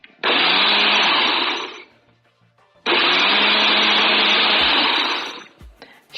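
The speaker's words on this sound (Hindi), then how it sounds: "आइसक्रीम डालने के बाद हम आहिस्ता आहिस्ता 2 दफा बस हल्का सा ब्लेंडर को चलाना है" A kitchen blender whirs loudly while mixing a strawberry milkshake with ice cream, running in two steady bursts of about one and a half and two and a half seconds, separated by a short quiet pause.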